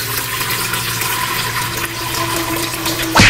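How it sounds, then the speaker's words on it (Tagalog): Water runs loudly into a cooking pot for a sour soup with onion, a steady close gushing and filling sound, ending in a brief clunk, with no talk. "Siyempre, lagyan na natin ng tubig."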